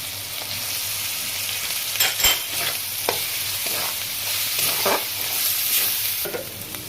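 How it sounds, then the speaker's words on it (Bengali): Chili and cumin powders fry in oil for chicken keema, giving a steady close sizzle broken by periodic scraping strokes of a spoon stirring the pan, with no talk. "মশলাটা একটু হাফ ভাজা হয়েছে"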